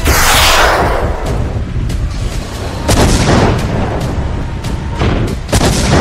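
Explosions from a Russian strike with KH-59 guided missiles on Zaporizhzhia, Ukraine: loud, repeated heavy booms and blasts roll one after another over a dense rumbling background, with no clear voices.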